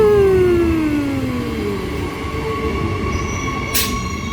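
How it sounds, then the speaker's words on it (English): A train pulls into a station platform, wheels and brakes letting out a long, descending squeal over a loud, steady rolling rumble, with a brief sharp hiss near the end. "Oh, it's coming from that side. It's our train."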